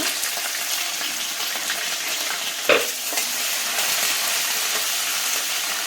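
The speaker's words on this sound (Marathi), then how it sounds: "मिरची चांगली परतून घ्यायची" Green chilies sizzle in hot oil with cumin and mustard seeds in a pan while making poha, a steady frying hiss with one brief stirring clatter partway through.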